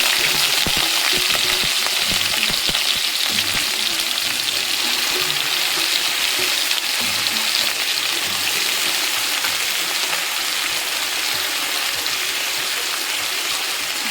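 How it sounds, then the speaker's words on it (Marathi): Potatoes frying in a spoonful of peanut oil for a Marathi fasting-day meal give a steady, loud, unbroken hiss and crackle with faint scraping, and no one speaks. "तर मी इथे एक चमचा तेल टाकलेलं आहे शेंगदाण्याचं त्याच्यामध्ये बटाटे परतून घ्यायचे आपल्याला"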